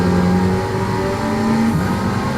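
GT300 race cars in a sim racing game rev and roar together as four cars battle for the lead, a loud, continuous engine drone with rising and falling pitch as they jostle close by.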